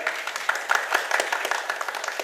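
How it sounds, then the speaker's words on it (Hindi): Applause from a theatre audience after a stage performance, a modest crowd clapping at moderate volume with individual claps standing out in a quick, uneven patter. "सर के लिए एक बार जोरदार तालियां"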